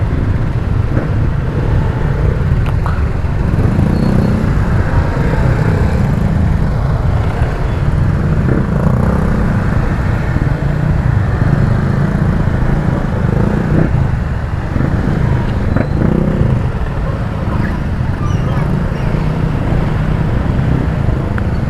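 Motorcycles and cars crawl through a flooded road in Bacoor and Las Piñas, giving a continuous loud rumble of engines and water, steady throughout with no clear speech.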